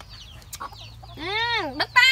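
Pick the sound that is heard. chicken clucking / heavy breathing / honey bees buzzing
chicken clucking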